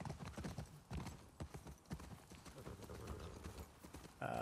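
Horse hooves clip-clop steadily in The Last of Us Part II, a rapid rhythmic run of close hoof strikes over game ambience, with no talk over them.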